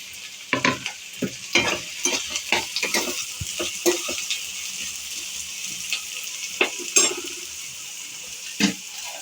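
Onions, green chillies, tomatoes and dry fish fry in a pan for dry fish curry, with a steady hissing sizzle broken by repeated scraping stirs and light clinks of a utensil against the pan.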